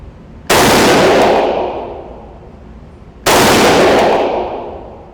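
Two loud, close shots from a Springfield Armory Hellion 5.56 bullpup rifle, each a sharp blast followed by a decaying echo, spaced about three seconds apart outdoors.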